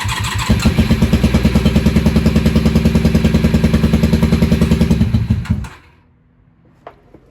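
A Honda Magna VF750C motorcycle's engine cranks on choke in a rapid, steady loud churn for about five and a half seconds, then stops, leaving near silence with a faint click.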